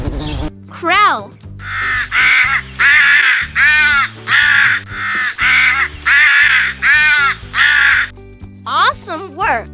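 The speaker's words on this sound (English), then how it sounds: "Crow." Crow cawing in a steady run of about ten loud, harsh calls, close and alone, framed by a voice at the start and end.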